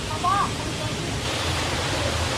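A cool mountain valley stream rushes in a steady, broadband wash of flowing water that fills the whole short stretch at constant loudness, with no break and no talk over it.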